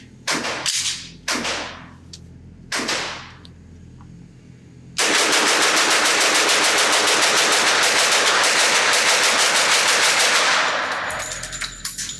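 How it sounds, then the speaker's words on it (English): A B&T SPC10 Pro 10mm pistol fires a few separate loud shots, then unloads the rest of the magazine in one long, dense, rapid burst of roughly six seconds, close and harsh, before the reports fade out. "I just want to load up one of these magazines one more time to full capacity and just see how fast I can shoot this"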